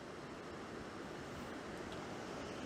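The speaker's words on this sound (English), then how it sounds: "And there's a weir, I don't know whether you can hear it." Water rushes steadily over a river weir near a muddy angling spot, a faint continuous broadband roar with no talk.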